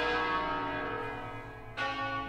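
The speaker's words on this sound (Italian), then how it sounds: "Ma perché suonano le campane?" Church bells ring with a rich, sustained tolling tone, moderately distant and steady, a fresh strike swelling in near the end, with no voices.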